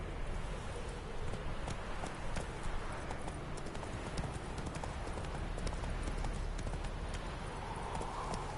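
A horse gallops at speed in The Witcher III: Wild Hunt, its hooves pounding out a rapid, steady clip-clop rhythm throughout against a constant hissing, rain-like background.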